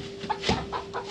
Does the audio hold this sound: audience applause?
no